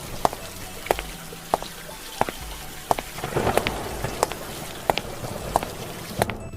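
Rain falls steadily outdoors with a constant patter, broken by sharp, evenly spaced ticks that sound like heavy drops hitting a surface.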